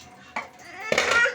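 A young boy washes dishes, plates and pots at a sink, with clattering and clinking of dishware in two short bursts, close and moderately loud.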